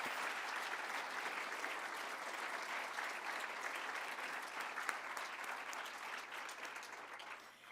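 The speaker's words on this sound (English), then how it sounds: "Please, a round of applause for their talks this evening" A large audience at an evening talks event on volunteerism claps steadily for the speakers, a dense, even wash of applause that carries on for several seconds and tapers slightly at the end.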